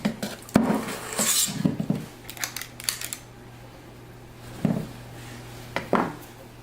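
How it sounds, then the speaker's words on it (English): Muffin batter being scraped from a mixing bowl, a series of close clinking and scraping strokes of a utensil against the bowl, in irregular bursts separated by quiet pauses, with no talking. "You do want to scrape your bowl"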